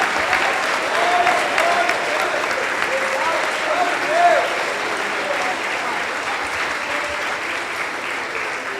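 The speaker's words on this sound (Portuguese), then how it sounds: "Aplauda Jesus nessa noite, Ele merece. Aplauda ao Senhor." A church congregation applauds during an evening service, sustained hearty clapping filling the room throughout while a few voices call out faintly in the background.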